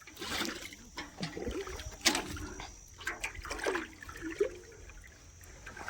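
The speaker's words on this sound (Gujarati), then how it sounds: "હવે ડોલ ભરી લઈએ" Muddy water runs into a bucket in a farm field, used for watering plants, with a soft trickling and splashing broken by a few sharp knocks and clatters nearby.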